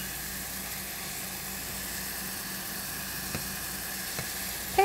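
Ingredients for Korean fried chicken sizzle in a pan with a steady, even crackle that carries on unbroken at a moderate level, with a couple of faint clicks near the end.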